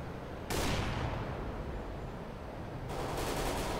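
Gunfire in a CS:GO match: a dense, continuous burst of rapid shots filling the moment, loud and without talk.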